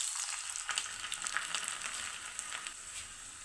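Chopped garlic dropped into hot oil with mustard seeds, a soft steady sizzle with faint crackles and pops, quiet and close with no talking.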